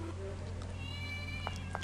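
A cat meows in the video game Mad Father, a short faint mewing call over a steady low hum, with a couple of brief soft sounds near the end.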